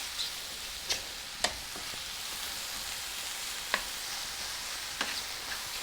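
Mushrooms browning in a hot pan give off a steady, quiet sizzle, and a few sharp scrapes and taps from stirring break through it at uneven intervals. No one talks.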